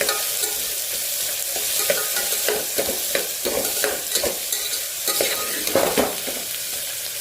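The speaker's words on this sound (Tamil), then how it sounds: "ஸோ இது எல்லாத்தையும் ஒன்றா வதக்கிக்கலாம்." Small onions sauté in a pan with a constant hiss of sizzling oil, close and loud, broken by irregular scraping and clattering stirring strokes throughout.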